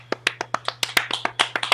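A single person claps about a dozen times at a steady, slightly uneven pace, each clap sharp and close, at a casting director workshop with a low steady hum underneath.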